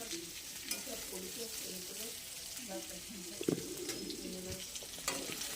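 Fish, cauliflower and potato fry in hot oil with a steady, close sizzle that runs the whole time. Faint stirring scrapes and small pops sit on top of it.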